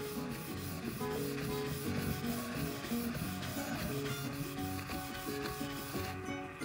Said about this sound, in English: just a sanding block